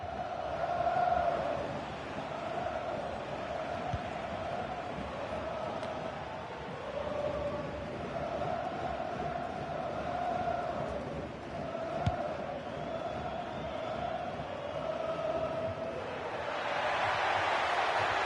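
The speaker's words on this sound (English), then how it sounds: "The crowd encouraging him to take it on." A stadium crowd in the FC25 football video game keeps up a steady roar with rising chants, loud and continuous throughout.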